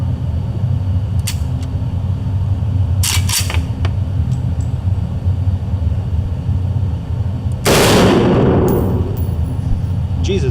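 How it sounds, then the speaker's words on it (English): A gun fired at a shooting range sounds as a single loud, sharp blast near the end, standing out over steady outdoor background noise with a few faint clanks earlier. "Whenever you're ready, fire away."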